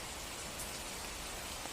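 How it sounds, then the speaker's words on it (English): Steady, dense patter of rain falling on a red umbrella held overhead, a continuous soft hiss with no voices. "The rain falls on the umbrella."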